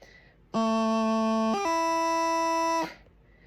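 A practice chanter plays a steady low A, then a quick G grace-note flick up to a held E, clear and reedy with no talking.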